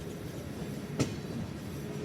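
The Chilahati Express rumbles steadily at Setu West rail station in Sirajganj, a continuous low roar with a single sharp clank about midway.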